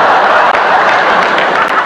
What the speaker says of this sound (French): On sent l'applaudissement sournois de l'exclu.